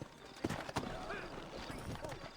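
Horse hooves clip-clop at a steady walking pace in the video game Red Dead Redemption, close and moderately loud, mixed with game ambience and voices talking over them.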